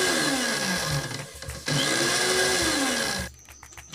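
A kitchen mixer grinder jar pulses on dough ingredients in short bursts at first speed, its motor whirring loudly with dips and pitch sweeps, then cutting off near the end.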